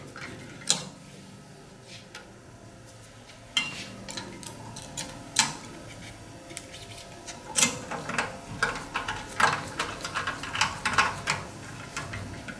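An Allen key turns in the adjustment hole of a Leica HistoCore Pearl automatic tissue processor during servicing, making quiet, irregular metallic ticks and clicks that grow busier toward the end.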